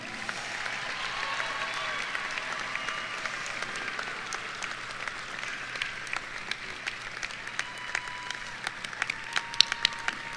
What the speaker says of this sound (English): One more applause for Mr. Carmody.